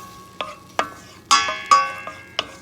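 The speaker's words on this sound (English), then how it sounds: "I'm stirring it so that we get a browny color" A utensil stirs chopped onion frying in olive oil in a pan, with several sharp metallic scrapes and clinks spaced irregularly over a faint sizzle.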